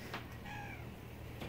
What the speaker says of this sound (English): my cat insists on being in the video despite me trying to toss her off the table.